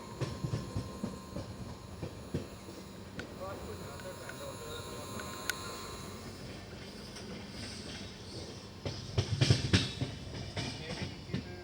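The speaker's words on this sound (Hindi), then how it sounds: "तो अभी हमारी ट्रेन एंटर कर रही है हापुड़ जंक्शन में" A Kashi Vishwanath Express train rolls into Hapur Junction with a steady rumble of wheels and carriages, clicks and clatter rising louder near the end, while a voice talks over it.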